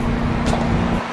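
A loud Nissan GT-R engine rumbles nearby at a car meet, heard from outside the car with a steady low drone and some road noise, briefly, with no talking.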